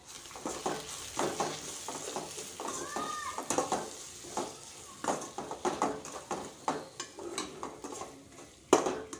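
Bhogi vegetable curry being stirred with turmeric, red chilli powder and garam masala, a quiet run of irregular spoon clicks and scrapes against the pot over a faint sizzle, no talking.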